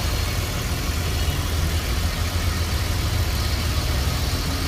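A 1991 BMW 520i with the M50 VANOS engine idles steadily, a constant close rumble with no change in speed.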